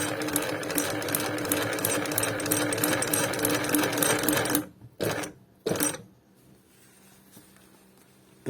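A heavy-duty leather sewing machine drives its needle through a thick stack of six layers of leather, about 12 mm, with a rapid, even mechanical chatter. The stitching stops abruptly, followed by a couple of short clunks and then near quiet.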